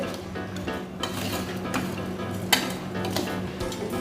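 Soya chunk biryani rice being stirred into the masala in a pot: repeated spoon scrapes and soft metallic knocks against the pot over a faint sizzle, close and steady, with no talking.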